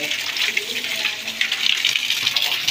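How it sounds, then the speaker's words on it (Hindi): Cold water runs steadily from a tap in an outdoor washing spot, a continuous hissing splash holding even through the clip with no talk over it. "पानी ठंडा ठंडा मज़ा कर रहा है तो टूटी बंद करते हैं"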